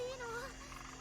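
Croaker creatures in the Made in Abyss game give a short, gliding croak-like call that sits over a steady low hum and ambient tones.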